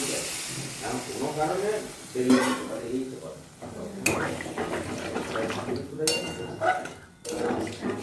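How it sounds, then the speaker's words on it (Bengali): Mushrooms and prawns frying in a pan after a splash of water, giving a soft sizzle with stirring and scraping of the utensil, while a voice speaks over the cooking. "এবার এটাকে ভালোভাবে ভাজতে হবে। একটু জল দিয়ে দিলাম অল্প"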